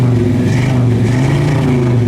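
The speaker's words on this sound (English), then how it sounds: "Go ahead, Steve, give me a rev." A 1964 Pontiac GTO with a 389 engine and three two-barrel carburetors revs loudly up close, its deep, steady exhaust rumble rising and holding with a throaty, even drone.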